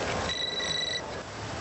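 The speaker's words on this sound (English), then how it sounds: "That's his car phone." Car phone ringing inside a vehicle, a single electronic trill lasting under a second, moderately loud over steady road and engine noise.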